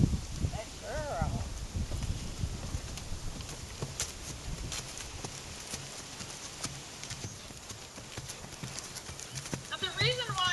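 A ridden horse's hooves clip-clop steadily at a walk on a loose rein, moderately close, with people talking over the footfalls and a few faint whinny-like calls.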